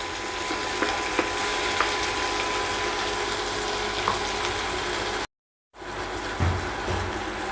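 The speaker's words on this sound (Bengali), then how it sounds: "এখানে আমি মশলা পেস্ট করে রেখেছিলাম, পেস্ট মশলা দিয়ে দিচ্ছি।" Spice paste fries in hot oil with onions, giving a dense, even sizzle with faint occasional clinks, cut by a brief silent break before the frying resumes.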